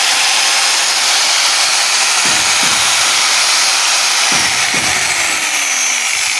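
An electric cutting machine whirs steadily at high speed once switched on, a loud continuous motor hum with a few brief lower thumps and shifts in pitch partway through.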